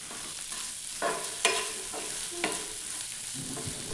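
Turmeric is stirred into ginger-garlic paste in a pan for egg curry, giving a quiet sizzle with several distinct scrapes and knocks from the spoon at an uneven pace, and no one talks.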